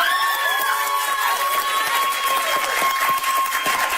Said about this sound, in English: And applause for Shay.